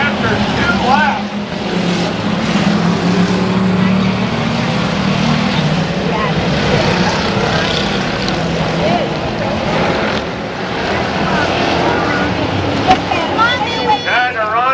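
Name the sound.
race cars racing around a track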